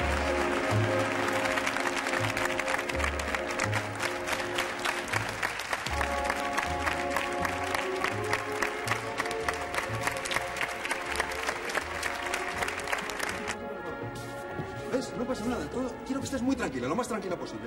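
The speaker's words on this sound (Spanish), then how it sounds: "Un fuerte aplauso que si no nos anima." Studio audience on a 1983 Spanish television game show claps loudly and steadily, with music playing underneath, and the applause tails off near the end.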